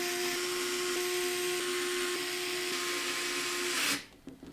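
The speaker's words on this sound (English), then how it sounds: "we're going to use these short radiator screws to secure the radiator to the top panel" Power screwdriver driving short radiator screws into the top panel of a Cougar Duoface Pro RGB PC case, a steady whirring drone with a high tone that cuts off abruptly near the end.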